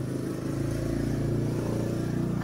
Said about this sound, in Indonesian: ada suara motor, Chan.